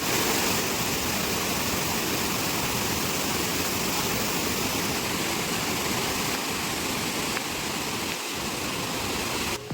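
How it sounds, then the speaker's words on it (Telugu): Rampa waterfall near Maredumilli, dropping between two hills, roars as a dense, unbroken wash of rushing water, loud and close with no voices. "ఫైనల్లీ వాటర్ ఫాల్ దగ్గరికి అయితే వచ్చామండి"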